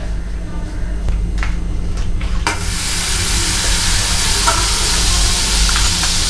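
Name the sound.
butter sizzling in a pan for white sauce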